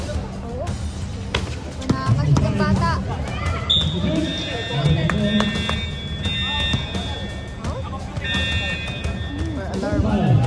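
A gym basketball game with a sustained electronic alarm buzzer sounding twice over constant ball bounces, sneaker squeaks and crowd chatter, as players and spectators talk and shout throughout.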